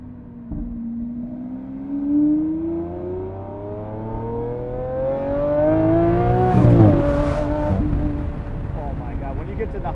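A car engine revs upward in a long, rising harmonic whine that climbs steadily toward high RPM, loud and close, with a short burst of added roar near the top and a voice talking over it.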